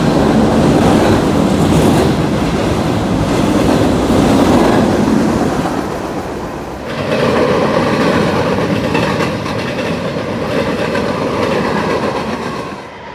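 A freight train of gondolas and a Wisconsin Central boxcar rolls past nearby, a loud continuous rumble with steady wheel clatter that drops slightly in level partway through as the end of the train passes.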